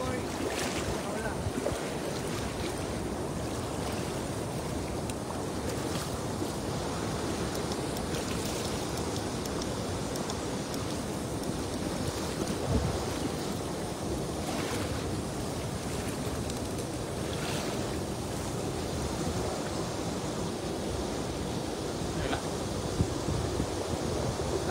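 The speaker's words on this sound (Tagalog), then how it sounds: "Lakas ng hangin." Strong wind roars steadily into the microphone by a river during traditional net fishing, a constant heavy rumble with occasional gusts and faint voices buried underneath.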